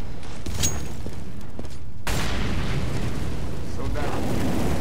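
A grenade or molotov blast in Counter-Strike: Global Offensive on the de_cache map: a loud, sudden eruption about two seconds in, followed by a sustained roaring rumble of fire and debris.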